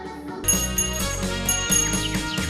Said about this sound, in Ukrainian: Якщо знов дзвонить дзвінок, починаємо урок.